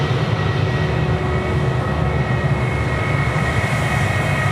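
A Jetstar airliner takes off from Sydney Airport bound for Adelaide, its engines producing a loud, close, unbroken roar that holds steady throughout.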